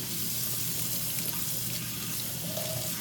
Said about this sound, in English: When I put it onto the stream of water right there